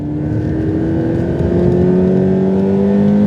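A Subaru BRZ flat-four engine pulls hard under acceleration while racing, a steady loud drone with rising pitch that stays close and continuous throughout, with no talking.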